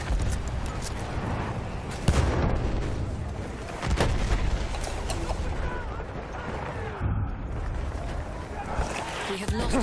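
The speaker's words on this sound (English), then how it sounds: "Grenade out!" Gunfire and a grenade blast in a Battlefield 1 online battle: dense rattling shots and deep booms over a constant roar of combat, with a heavy thump standing out, while voices shout beneath the noise.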